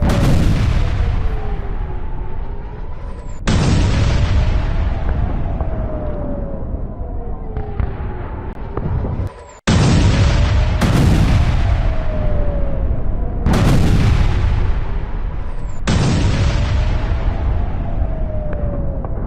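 Heavy artillery fire in news footage of an attack on Gaza: several loud, deep booms, each with a long rumbling decay, repeating every few seconds across the clip with no talk.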